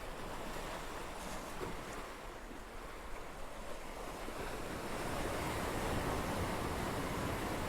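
Ocean waves wash in as a steady, dense roar of surf mixed with wind buffeting the microphone, growing slightly louder near the end, with no voices.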